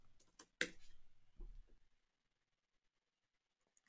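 Brief typing on a computer keyboard, a short cluster of quiet close clicks and taps followed by a second small burst, then silence.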